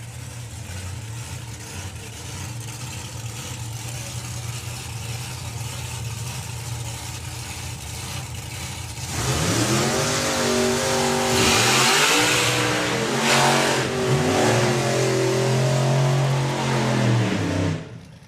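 A drag race car revs hard at a drag strip during a burnout, its engine roaring loud and close in rising, wavering bursts after a steady rumbling idle, then cutting off abruptly at the end.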